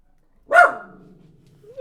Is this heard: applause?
no